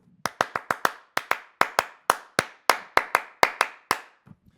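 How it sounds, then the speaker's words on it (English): Hand clapping for a quiz show segment, about fifteen sharp, close, separate claps in a quick, slightly uneven rhythm, then a couple of soft taps as it stops. "Clap it up for Splickety Lit."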